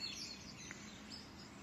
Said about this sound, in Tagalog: Ang huni ng ibon sa umaga.